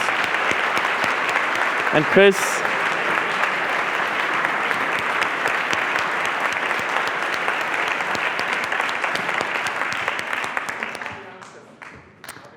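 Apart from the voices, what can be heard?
conference audience applause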